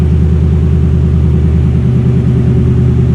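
Upgraded 5.7L engine idling with a deep, steady throaty rumble, loud and close, with a pulsing low lope but no clear rise into a rev.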